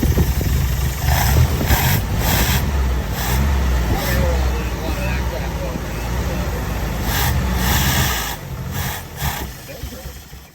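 A Nissan 720 pickup engine runs nearby with a steady idling rumble, while a person talks over it intermittently.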